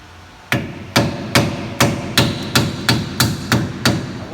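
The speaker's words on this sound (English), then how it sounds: "We're going to come around the edge with a screwdriver and a hammer." Metal hammer blows drive a screwdriver used as a chisel against a Ford rear drive axle seal, about nine sharp, evenly spaced strikes, close and loud with a brief ringing decay after each.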